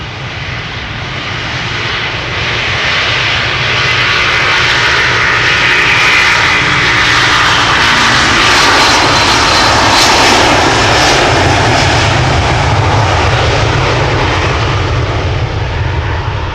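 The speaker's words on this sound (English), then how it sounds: "The Delta A330 will be taking off first, going to Minneapolis, Minnesota." A Delta Airbus A330 bound for Minneapolis takes off at Amsterdam Schiphol, its engines a loud, dense, continuous roar from up close that holds steady for the whole stretch.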